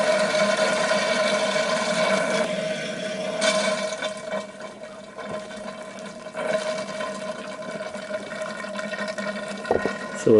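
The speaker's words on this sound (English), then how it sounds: "it's extracting the fluid, even though the fluid is cold." Cold Ford automatic transmission fluid is drawn out through a Topsider hand pump, making a continuous gurgling, sucking flow that rises and falls in strength over several seconds.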